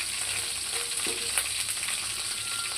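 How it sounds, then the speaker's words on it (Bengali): Vegetables fry in oil in a pan for a vegetarian patal kaliya, giving a steady bright sizzle with a few soft stirring scrapes mixed in, close and even in loudness, with no speech. "এবার আমি নেড়ে দিব"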